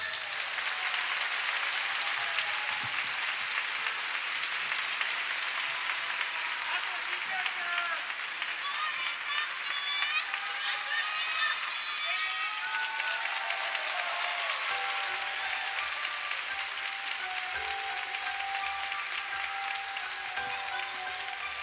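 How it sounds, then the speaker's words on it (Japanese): Large arena crowd applauding at a New Year countdown concert, a sustained roar of clapping throughout, with voices and cheers rising over it midway and the clapping thinning toward the end. "皆さん大きな拍手をお願いします。"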